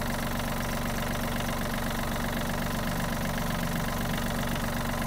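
A small diesel engine of a Yanmar RS-27 mini tractor idles steadily up close, a continuous low chugging rumble with a slight knocking rhythm and no talk.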